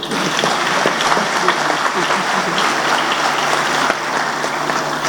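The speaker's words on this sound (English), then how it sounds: "please applaud for yourselves" Graduates at a university graduation ceremony applaud themselves, producing a continuous wash of crowd clapping that holds steady and fairly loud from start to finish.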